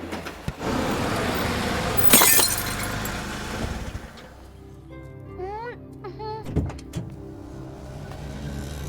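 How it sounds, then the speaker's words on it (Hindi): Car headlight glass breaking in a residential neighbourhood, a sharp crash of glass in the middle of steady vehicle noise, followed by shouting and other voices. "तुमने मेरी गाड़ी की लाइट तोड़ दी।"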